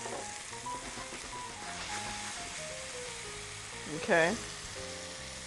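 Steady, close sizzling of mushrooms frying in oil in a pan, with a voice speaking briefly over it.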